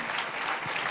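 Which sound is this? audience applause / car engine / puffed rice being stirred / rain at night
audience applause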